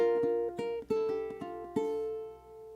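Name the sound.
ukulele playing bar 4 of a song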